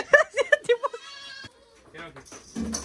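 Goats kept at a relative's village home bleat in several short, sharp calls close by, mixed in with people talking, before the sound thins to quieter background noise.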